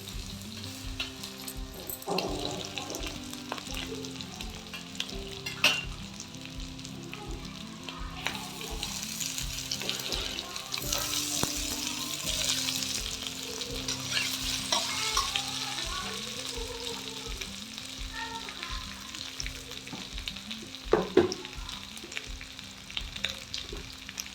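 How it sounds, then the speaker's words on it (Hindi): Potatoes and spinach frying in a pan, a steady close sizzle with occasional stirring scrapes and clinks running throughout, no talk over it. "आलू पालक को उसको मैं फ्राई करके मैं निकाल लूँगी"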